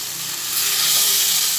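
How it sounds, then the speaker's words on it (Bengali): Potatoes and spices frying together in a pan, a close, loud, continuous sizzle that swells slightly partway through. "আবার ভালোভাবে আলু আর সব মশলাগুলো একসঙ্গে ভেজে নিচ্ছি"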